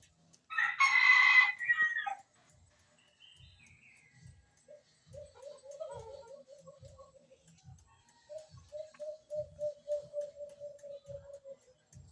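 A wild junglefowl's crow rings out loudly near the start, followed by a softer series of clucking or trilling calls repeated at a steady rhythm.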